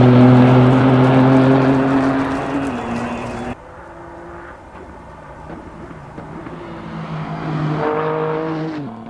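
A GT3 race car engine in a sim racing game with an SHR sound mod revs hard through the gears, a loud rising howl that cuts off at an upshift, then builds again through strong harmonic pulls.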